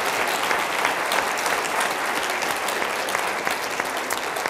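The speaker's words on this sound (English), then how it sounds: "Give your teachers and staff a round of applause right now." A crowd gives teachers and school staff a round of applause, steady and full clapping from many hands, fairly loud and unbroken throughout.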